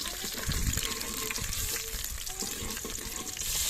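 Onions and tomatoes frying in a pan give a steady, dense sizzle throughout, with soft stirring and clinking beneath it and a slight swell near the start.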